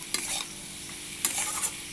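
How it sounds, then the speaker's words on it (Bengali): Turmeric and salt are stirred into onions frying in a pan for a Bengali potato and eggplant fish-oil fry. A utensil scrapes quietly a few times over a soft, steady sizzle, with no talking. "দিয়ে ভালো করে মিশিয়ে নেব।"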